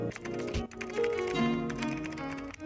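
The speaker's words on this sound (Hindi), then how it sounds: "एक साउंड इफेक्ट है, उसका नाम है कीबोर्ड टाइपिंग साउंड इफेक्ट" Keyboard typing sound effect, layered into an edit as text appears on screen: a run of light, quick key taps sitting under steady, fairly loud background music for nearly three seconds.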